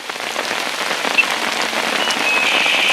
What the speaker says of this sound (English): Alright, we got a hailstorm going on.